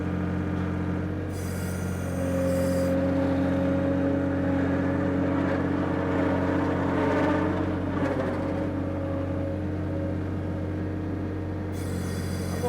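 Old skid steer running a Steffen grapple, with a steady diesel engine drone and whining hydraulics throughout, plus short bursts of higher hissing and creaking as the grapple curls and rotates.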